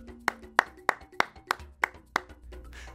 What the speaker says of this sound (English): Let's all clap for Joseph and Potiphar.